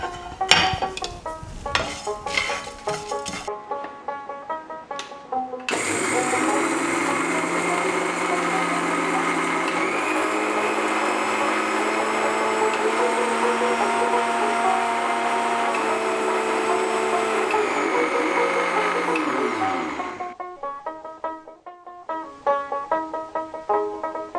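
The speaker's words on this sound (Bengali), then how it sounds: "এবার মশলাগুলো একটু ঠান্ডা হলে গুঁড়ো করে নেব" An electric grinder powders dry-roasted whole spices such as cumin, coriander and fenugreek for bhaja masala: a few clinks and clatters, then about fourteen seconds of loud, steady motor whirring that winds down and gives way to more handling noise.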